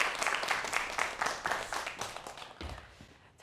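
An audience claps for a school principal after his lecture on math education, filmed for a TV talk program. The clapping is brisk and close, with distinct rapid claps that thin out and fade toward the end.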